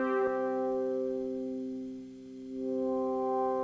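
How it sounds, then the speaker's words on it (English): A Roland Juno synth pad played without chorus, a plain sustained chord with steady tones that dip slightly in level and swell back, preceded by a brief click at the start. "Here's it without the chorus."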